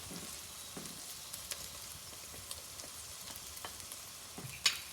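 Garlic hits softened, sweated-down onion in a hot pan for a Bolognese sauce, giving a steady broadband sizzle with small crackles and stirring scrapes spread throughout, close and moderately loud.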